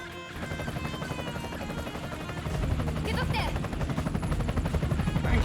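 Default rifle gunfire in the game Yakuza Dead Souls, a steady rapid stream of shots blended with dense game music and effects, growing louder and busier partway through.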